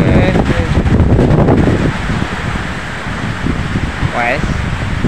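Wind and rain storm lashing Nganjuk, a steady loud broadband roar of gusting wind and rainfall close to the microphone, with voices talking over it at the start.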